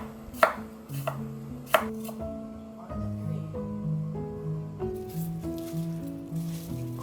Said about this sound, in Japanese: 生姜を細かくカットする。